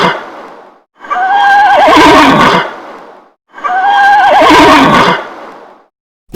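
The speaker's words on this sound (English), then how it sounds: "It's a horse." A horse neighing loudly twice in succession, each whinny long and wavering with a trailing snort, close and clear with brief pauses between.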